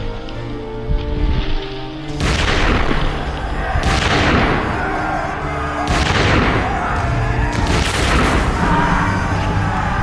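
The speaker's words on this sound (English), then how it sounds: "They were just 40 paces away when the Duke gave the order to fire." Battle reenactment volleys of musket fire, four heavy booming discharges spaced about two seconds apart, each trailing off in long rumbling echoes over continuous background noise, loud and close.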